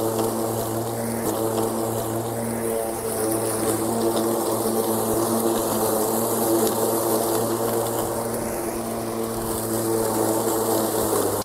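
A Wild Badger 40V brushless cordless 18-inch lawn mower cuts through thick St. Augustine grass, its steady motor drone holding close and loud with a constant whine throughout, no voices heard.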